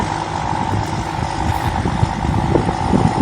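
A combine harvester with an Isuzu engine running in a rice field, giving a loud, steady engine drone and hum with some mechanical clatter, close by and continuous throughout.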